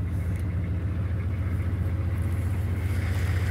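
A Ford F100 pickup idles steadily close by, its low engine rumble holding even and continuous with no voices over it.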